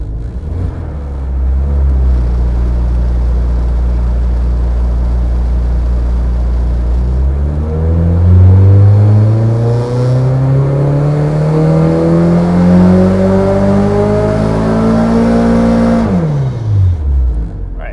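An all-motor Honda K24 engine idles loudly, then climbs in one long, smooth rev sweep over several seconds before dropping abruptly back. The engine is heard alone at close range with no voices.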